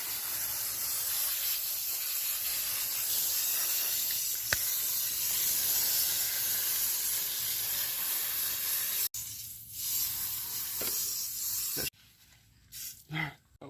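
A steady hiss of water spraying from a garden hose runs for several seconds, then breaks into shorter sputtering bursts with brief gaps near the end.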